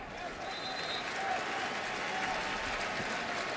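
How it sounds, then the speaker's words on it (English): Crowd applause rolls through a college football stadium during a Minnesota at Nebraska game, a distant, diffuse wash of clapping and cheering that holds steady for a few seconds. "You can hear the applause probably coming through the microphone."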